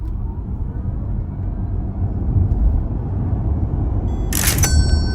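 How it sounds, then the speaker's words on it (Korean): Kia EV9 AWD electric SUV with a 100 kWh battery pulling away under hard launch acceleration, a steady low cabin rumble of road and motor noise building slightly, with a brief sharp click near the end. "발진 가속감도 한번 느껴볼 거고요"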